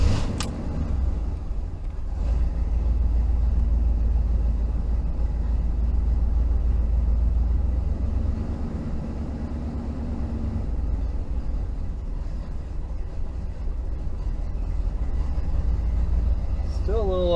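A cold Pontiac Trans Am engine idles with a deep, steady low rumble that wavers unevenly for the whole stretch, close and fairly loud, with a voice speaking over it at times.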